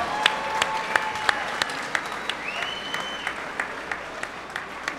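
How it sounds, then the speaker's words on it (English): Crowd at a boxing event applauding both fighters after a four-round bout: scattered, fairly sparse claps ring out with individual sharp hand-slaps standing out over a low murmur of the arena, no speech on top. "let's give both fighters a big round of applause."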